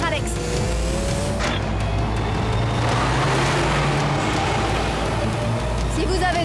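A cartoon car accelerating hard, a loud continuous engine roar with rising whine and road rumble filling the whole stretch, while a voice speaks briefly over it.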